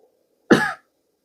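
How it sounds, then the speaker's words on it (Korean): A single sharp, close cough bursts out alone against near silence and lasts about a third of a second. "방금 기침하시죠?"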